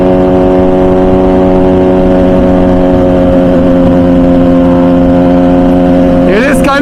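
An MV Agusta motorcycle with a loud exhaust idles with a deep, steady rumble for several seconds before a quick blip of revving at the very end; close and loud.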